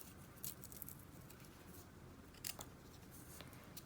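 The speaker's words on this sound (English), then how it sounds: "Just carefully trim off some of that paper." Scissors snipping crepe paper off paper-wrapped wire for a crepe paper peony leaf, a few faint, quiet cuts near 0.5 and 2.5 seconds over a low room hiss.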